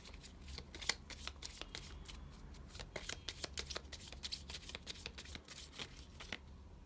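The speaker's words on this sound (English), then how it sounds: "Let me shuffle again." Tarot cards being shuffled by hand, a close, quiet run of rapid papery riffles and flicks with no talking.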